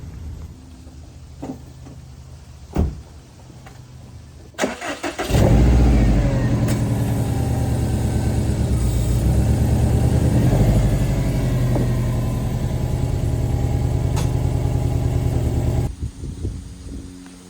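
A Subaru WRX STI, just backed off ramps after an oil change, cranks after a few clicks and fires up, then holds a loud, steady idle for about ten seconds before it shuts off.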